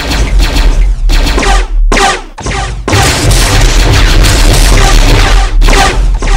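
Blaster fire rings out in a Star Wars stop-motion battle: loud, rapid bursts of shots and booming crashes pile up densely, broken by a couple of brief gaps.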